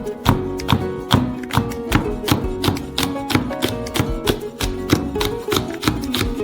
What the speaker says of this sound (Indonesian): Kami juga akan memotong cabai.